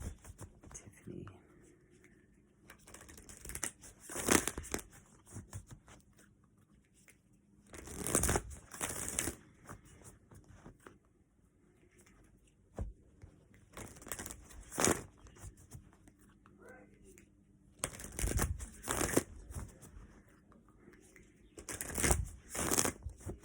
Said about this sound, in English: Just want to shuffle this up really good.